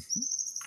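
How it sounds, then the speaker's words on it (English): A single high, sustained morning bird whistle or chirp rings out clearly, with a brief low rustle near the start and a short burst of noise at the end. "I hear the morning birds chirping away."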